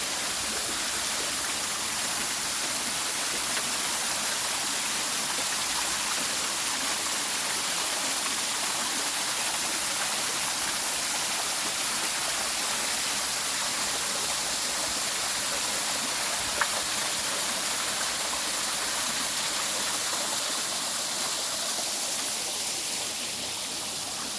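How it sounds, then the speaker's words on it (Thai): A waterfall in a national park in Thailand roars steadily and evenly, a full, constant hiss of falling water with nothing else breaking through. "ฟังแต่เสียงน้ำตก ก็เย็นชุ่มฉ่ำเลยจ้า"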